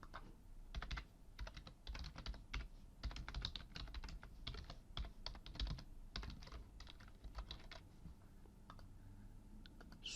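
Fingers type on a computer keyboard with rapid, uneven key clicks that run steadily for about ten seconds, quiet and close, over a faint background hum with no talking.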